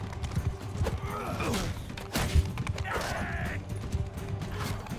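Horse hooves clip-clopping in Mount and Blade II: Bannerlord, fairly quiet, irregular clopping thuds with clanks of gear and whooshing swings mixed in.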